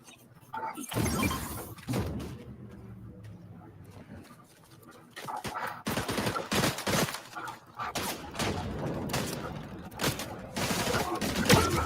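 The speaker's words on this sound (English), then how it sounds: "getting shot at by 2 people" Video game shooter gunfire comes in rapid bursts and scattered shots, loud and dense at times, dropping briefly before resuming, with no clear speech over it.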